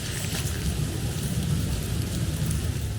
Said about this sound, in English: It rains so much.